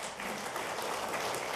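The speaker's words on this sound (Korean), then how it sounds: "박수 부탁드리겠습니다" Audience applause fills a parliamentary policy forum hall, a steady dense wash of clapping heard at moderate distance with no break across the short stretch.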